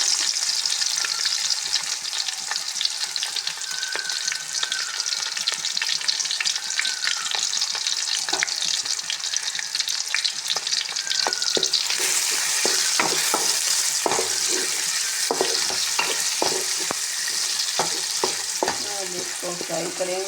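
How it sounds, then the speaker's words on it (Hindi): Chopped onions fry in ghee for chicken chow mein with a steady, loud sizzle. Sharp scraping stir clicks run through it, growing more frequent in the latter half. No voices. "अब इसके अंदर ये मैं प्याज डालूँगी कटे हुए, फ्राई करूँगी।"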